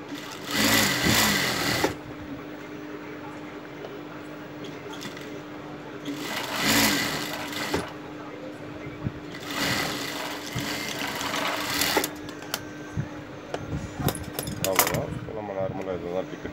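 Sewing machine stitching a ticket pocket on pants, running in short bursts of rapid mechanical whirring separated by pauses, with quiet handling noises and a person speaking in the gaps.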